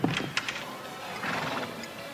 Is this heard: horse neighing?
yes